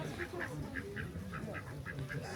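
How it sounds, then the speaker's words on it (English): Farmyard ducks and geese at Stansted Mountfitchet Castle call in a steady run of short honking quacks, about ten calls spaced through the stretch, moderately close over a busy outdoor background. "the farmyard ducks started to talk to me"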